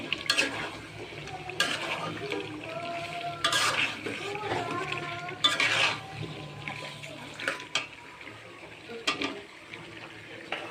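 Potatoes go into a pan of browned duck meat for a traditional Bengali duck curry, giving a soft continuous sizzle broken by several louder scrapes and clatters of a spoon stirring against the pan.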